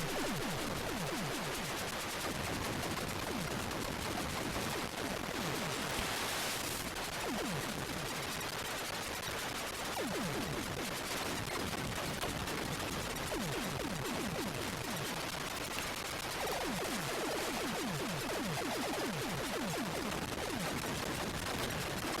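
Continuous rapid-fire shooting from the Atari 8-bit game Warhawk, a dense stream of harsh, buzzy retro shots that keeps up steadily at a constant loudness the whole time, with no talking.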